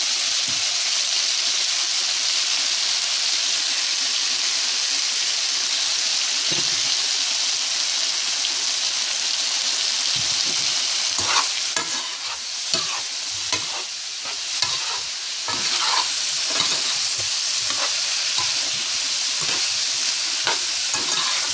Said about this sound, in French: On brasse bien pour que le pâte de tomate soit bien réparti, que ça, que ça cuise aussi.